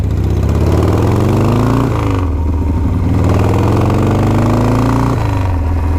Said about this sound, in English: For a lot of people, for almost a whole generation, this is what Harley-Davidsons are supposed to feel like and sound like.